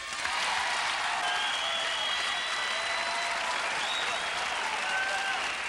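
Audience at a Howie Mandel stand-up comedy show breaks into sustained applause, a dense, steady wash of clapping from a large crowd that holds at an even level throughout.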